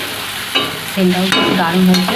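Vegetables stirred and fried in a pan for a breakfast chire (flattened rice) pulao, with scraping strokes and a steady sizzle; a voice speaks briefly near the end.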